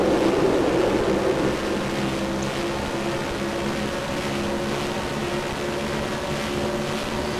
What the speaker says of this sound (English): you can also hear the engine sounds or the exhaust sounds